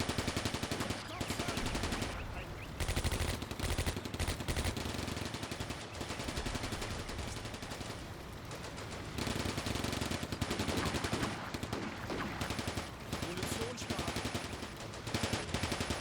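Sustained machine-gun and rifle fire in the WWII strategy game Combat Mission: Barbarossa to Berlin, dense rapid bursts rattling continuously for the whole stretch, loud and close with no pauses.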